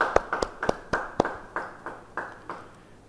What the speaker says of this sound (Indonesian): Yang setuju beri tepuk tangan buat Tuhan.